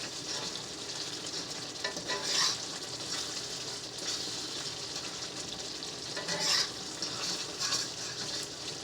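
Caramel sauce for bananas foster sizzles steadily in a hot pan, with brief louder scraping bursts as the spoon stirs it, close and continuous.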